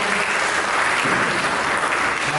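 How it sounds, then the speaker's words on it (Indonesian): Congregation applause at a church worship service, a dense, steady wash of many hands clapping at full, even volume for the whole stretch, with no voices rising above it. "Mari kita berikan tepuk tangan yang meriah"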